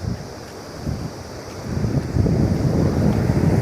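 Water pours over the Adinimmayapalli dam in a strong flow, a steady broadband rush that swells toward the end, blended with wind buffeting the microphone.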